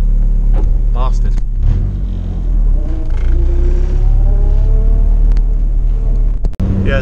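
K-swapped Honda Civic EG engine pulls hard from inside the cabin, a loud rumbling drone rising in pitch through the gears under road noise, with a voice talking briefly.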